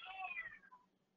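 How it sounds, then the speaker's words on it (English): A house cat meows once in the background, a soft drawn-out cry that falls in pitch and fades, faint and distant, heard alone with no talk. "that's my cat joining in the webinar in the background there"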